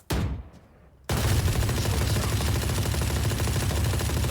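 In Valorant, an Odin machine gun opens up after a brief quieter lead-in, then a sustained rapid stream of close, loud automatic gunfire runs without pause.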